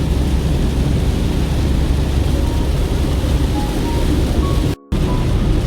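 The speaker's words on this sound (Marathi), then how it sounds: "एवढा पाऊस आहे बघा. पाऊस चाललाय." Heavy rain pounds a car on the road from Pune to Mumbai, a steady dense roar with deep low rumble that runs unbroken apart from one very brief cut.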